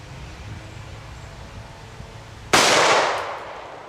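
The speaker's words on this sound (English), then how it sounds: "We're going to tag this with the Mossberg from 20 feet." A Mossberg 12 gauge shotgun fires birdshot into a block from 20 feet on a hot day: one sudden, loud blast after quiet outdoor ambience, its roar trailing off over about a second.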